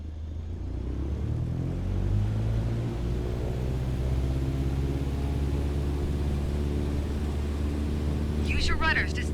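An airplane engine in Microsoft Flight Simulator runs at full takeoff power, a steady droning rumble whose tone slowly climbs as the aircraft gathers speed, under continuous talking.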